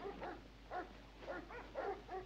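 A dog gives a run of about six short, whining yelps and yips at moderate distance. The calls come in quick bursts, with no talking over them.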